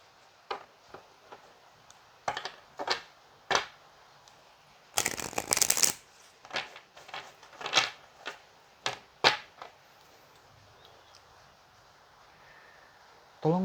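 Romance Angel tarot cards being shuffled in the hand, a series of short papery riffles and flicks in irregular bursts with one longer dense shuffle, close and fairly quiet.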